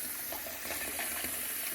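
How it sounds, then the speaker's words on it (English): Water running steadily into a soup pot that is filling toward half full, a continuous close splashing gush with no pause or voice. "I'm going to add just a little bit more water to it."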